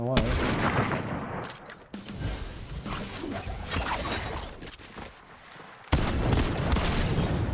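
Gunfire in a first-person shooter, loud bursts and shots with a sharp break near the start and a renewed loud burst later, mixed with game noise and some breathy vocal sounds.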